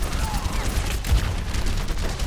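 Rapid gunfire in a shooter video game, a dense stream of shots crackling steadily throughout, moderately loud and slightly muffled in the mix.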